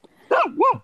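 A single dog gives a sharp bark, then a rising-and-falling yelping bark, close and loud outdoors at an air show, after a faint thump.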